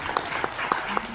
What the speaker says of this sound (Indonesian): tepuk tangan untuk janji.